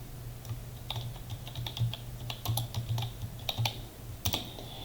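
Someone types a heading on a computer keyboard in an Excel spreadsheet, with a quick irregular run of close, crisp key clicks and taps heard alone over a low steady hum.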